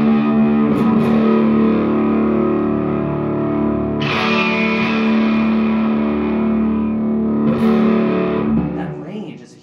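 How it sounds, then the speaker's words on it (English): Electric guitar fitted with an added tone capacitor, played through a distortion pedal with the tone knob rolled all the way back, gives loud, sustained distorted chords with fresh strums near 1, 4 and 7.5 seconds that ring out and fade at the end. "It sounds so much better with it. With the distortion on it."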